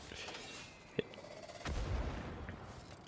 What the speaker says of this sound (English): It's time to recreate the bombing of London.